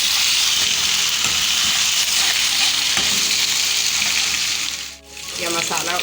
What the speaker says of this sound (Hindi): कम से कम 2 से 3 मिनट तक इसको फ्राई करना चाहिए ताकि अच्छी तरह